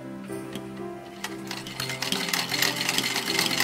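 A sewing machine top stitches a fabric ornament, starting with a quiet hum and scattered clicks, then building into a louder, dense run of rapid stitching close by.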